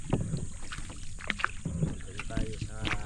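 A borrowed wooden fishing boat moves across a wide river, with steady water and hull noise, some wind buffeting, and occasional voices in the background.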